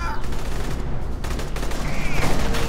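Shotgun fire in the video game Aliens: Colonial Marines, a dense burst of loud, close blasts running straight through a short, noisy stretch with no pauses between them.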